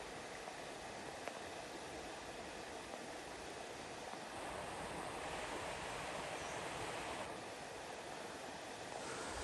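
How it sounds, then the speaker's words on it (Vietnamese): A small stream flowing below, heard as a continuous, even wash of rushing water with a faint breezy hiss, no voices, steady and moderately quiet throughout. "dưới này là con suối này"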